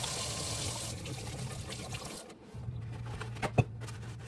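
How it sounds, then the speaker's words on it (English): Hands are washed under running water in a home kitchen, a soft steady trickle and splash with a few small knocks and clinks near the end. "it's time to wash your hands"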